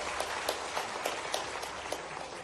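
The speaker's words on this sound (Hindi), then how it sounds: "इसके लिए जोरदार ताली बजाकर उनका अभिनंदन करें" Audience applause at a government medical college event in Jabalpur, a dense steady wash of clapping with small bursts throughout, moderately loud with no voices over it.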